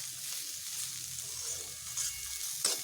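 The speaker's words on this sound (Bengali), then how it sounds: "একটু ভালোভাবে করলাগুলোকে ভেজে নিচ্ছি" Bitter gourd pieces fry in oil in a pan, a steady close sizzle with a few soft clinks of stirring near the end.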